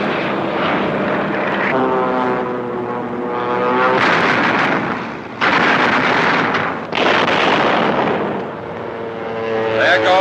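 A WWII P-47 Thunderbolt fighter flies past on a 1943 escort mission, a loud droning radial engine with rising and falling harmonic whine, sweeping through several passes with abrupt surges of roar, close and continuous throughout.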